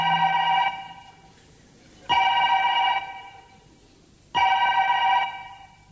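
Telephone bell ringing in three bursts of roughly a second each, evenly spaced by pauses, clear and moderately loud with no talk.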